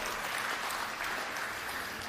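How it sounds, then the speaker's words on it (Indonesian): A church congregation claps together, a dense steady patter of many hands heard from the middle distance for a couple of seconds, without any speech over it. "Untuk Tuhan kita tepuk tangan untuk Tuhan."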